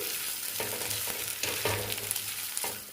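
Cut muthiya dhokla pieces sizzle in hot oil in a pan as they are stirred, with a continuous close fry hiss broken by repeated scraping strokes of the spoon and no voices.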